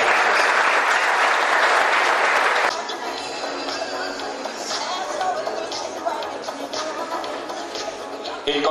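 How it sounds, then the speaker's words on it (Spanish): A crowd at a community development council event in Catamarca applauds, loud dense clapping at first that drops to lighter, scattered claps with background chatter and shuffling. "Un gran aplauso para quienes nos han concedido en calidad de préstamo."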